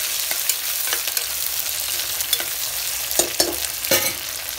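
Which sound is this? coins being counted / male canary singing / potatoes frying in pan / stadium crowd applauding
potatoes frying in pan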